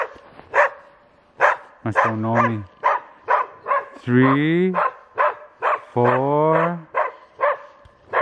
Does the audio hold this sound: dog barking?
yes